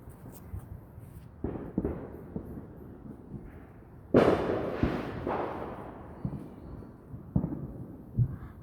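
Distant fireworks go off outdoors on a July 4th evening, a few sharp pops and one louder burst near the middle with a rumbling tail, spread across a quiet neighborhood background.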